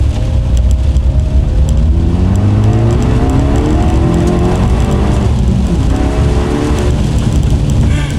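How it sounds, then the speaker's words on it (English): A loud car engine with a downpipe exhaust revs and accelerates hard, the exhaust rising in pitch with a deep, raspy roar that stays close and constant throughout. "do a little pull for you guys, so you guys can hear that downpipe again"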